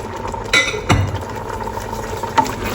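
Chili con carne with whole beans and tomato being stirred in a pot, giving a few soft scrapes and one sharper knock over a steady low simmering background.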